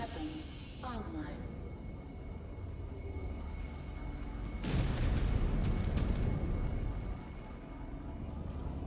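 Mech weapons fire in the video game Mechwarrior 5: Clans, a steady rumbling barrage with sharp bursts and a loud heavy blast near the middle, over a constant low battle drone and game voice callouts.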